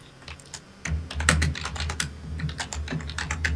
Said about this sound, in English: vigorously beating on his keyboard